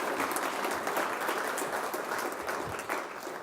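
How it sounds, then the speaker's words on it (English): A banquet audience at the Irish America Hall of Fame awards gives Gerry Adams a sustained round of applause, dense clapping from many hands holding steady before tapering slightly. "Jerry Adams, please give him another round of applause"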